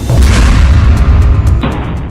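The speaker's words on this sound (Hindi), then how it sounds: "जो धमाका है उसमें न सिर्फ इजराइल का टैंक फट रहा है" A blast hits an Israeli Merkava tank in Jabalia, a loud, close boom with a heavy low rumble that rolls on, then a sharp secondary crack.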